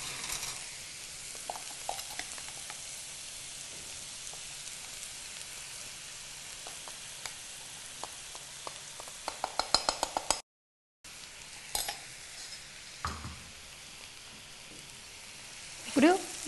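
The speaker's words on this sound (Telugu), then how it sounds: "ఇప్పుడు కర్రీ అంతా బాగా పట్టేలాగా కలుపుకోవాలి కూరపొడి." Ivy gourd curry with curry powder stirred in a pan, a steady low sizzle under scraping spoon strokes and a few light clinks, with a brief gap before the stirring and sizzling resume.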